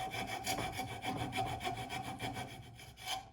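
A hand saw cutting through wood up close, with steady back-and-forth rasping strokes in an even rhythm.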